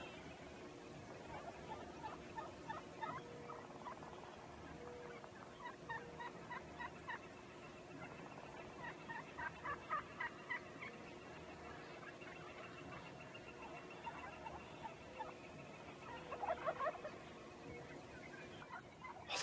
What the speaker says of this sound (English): now I just need a nice cooperative gobbler to show up